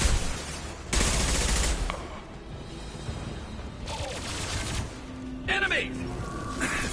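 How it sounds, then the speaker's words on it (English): Concussive shots fire in the video game Mass Effect 2, with heavy blasts and bursts of weapon fire punching through combat noise in loud, uneven volleys. "Firing concussive shots!"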